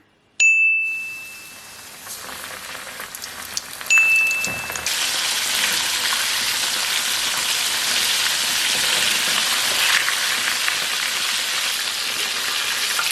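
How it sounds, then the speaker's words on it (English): A sharp ding rings out, then a loud, steady sizzling crackle of chicken wings deep frying in oil at about 180 degrees fills the rest, dense and continuous, with another chime partway through. "Now when your oil's up to temperature, about 180, let's start frying."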